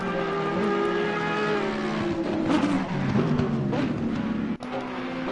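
Race cars, including Ferraris, cross the finish line at the Zolder circuit, a loud sustained engine roar with overlapping passes and a brief dip near the end as one car fades.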